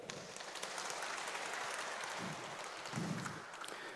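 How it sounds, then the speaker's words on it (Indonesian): A church congregation applauding during a sermon, soft and somewhat distant continuous clapping that swells briefly near the end. "Tepuk tangan buat saudara"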